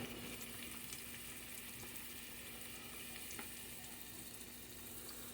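Shrimp frying in a frying pan, a steady, soft sizzle that runs throughout with faint clinks and stirring, close by and with no talking.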